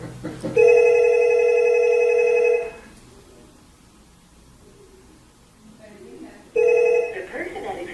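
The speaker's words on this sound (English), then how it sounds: "I'm going to dial your room." A hotel VoIP desk telephone rings when a guest room is dialed, one long electronic ring burst, a pause, then a second ring starting, close and loud.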